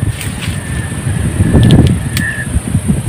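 Strong typhoon wind on a mountainside, roaring and buffeting the microphone in uneven gusts with a heavy low rumble that swells near the middle.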